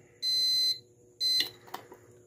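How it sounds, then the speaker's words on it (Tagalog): A game show controller buzzer sounds two short, bright electronic beeps separated by a brief pause, followed by a few faint clicks as it resets. "Tapos itong B, ito yung ating buzzer."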